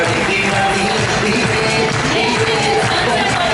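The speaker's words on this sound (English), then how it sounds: "can we show our appreciation to them with a huge round of applause?" A large audience claps and cheers in a packed hall, dense continuous applause with some whoops and yells mixed in, loud and steady throughout.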